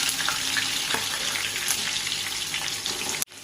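Crushed garlic and mustard seeds frying in hot oil in a pan, giving a dense, bright, continuous sizzle close up with faint crackles, ending abruptly.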